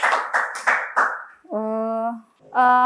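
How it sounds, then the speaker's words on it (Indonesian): A classroom of students gives a short burst of four sharp, close claps for a student, followed by two clear voiced phrases. "Tepuk tangan dulu dengan untuk Maura."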